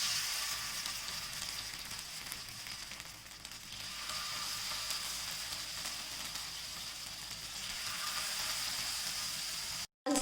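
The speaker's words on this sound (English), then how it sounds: "Once the oil is hot, let's start putting the baby corns one after the other into it." Baby corn pieces fry in hot oil in an ordinary pan, giving a steady, dense sizzle that holds at an even level for about ten seconds, broken only by a brief cut near the end.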